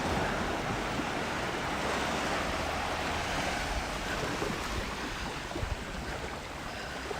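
Steady wash of bay water lapping and surging at the shore, continuous and close, with a breezy rush and no voices.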